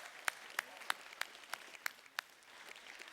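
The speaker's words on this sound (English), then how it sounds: "Let's give these students a nice round of applause." Sparse, evenly spaced claps ring out at a high school fine arts festival, about eight distinct sharp hand claps over a faint background.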